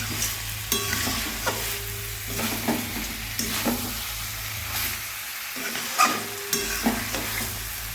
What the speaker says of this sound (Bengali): আর এদিকে মটনটা কষা হচ্ছে